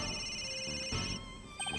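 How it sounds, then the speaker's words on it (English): A cell phone rings in the Phoenix Wright: Ace Attorney Dual Destinies video game, with a steady electronic ring tone that sustains and then breaks into short repeated beeps near the end, with no speech. "Where's that ringing coming from?"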